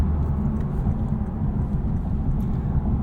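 Steady, low engine rumble from a 2023 Lexus IS 350 F Sport AWD's 3.5-liter V6, continuous and fairly loud with a dense bass drone and no speech.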